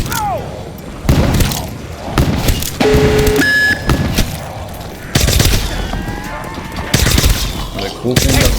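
Gunfire from a weapon in Black Ops 3 zombies on the Moon map, loud bursts of shots mixed with electronic game effects and tonal whines, nearby and dense, with some talking between.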